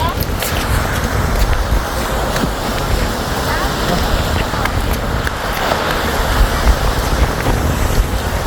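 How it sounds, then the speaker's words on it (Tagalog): Strong sea wind buffets the microphone in a loud, continuous roar at a La Union beach, with waves surging beneath it and voices talking over the noise. "pumunta nga kami dito para i-feel talaga yung simoy ng hangin na napakalakas lakas"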